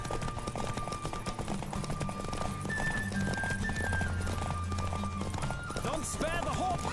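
Hooves pounding at full gallop in The Witcher 3 during a horse race, continuous quick clip-clop under a bed of music and effects, closing with a horse's neigh and game voices.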